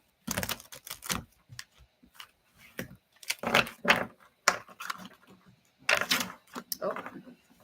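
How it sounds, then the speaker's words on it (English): Tarot cards being shuffled by hand, a series of crisp riffling bursts in uneven clusters, close and fairly quiet, with pauses between shuffles. "few more shuffles here"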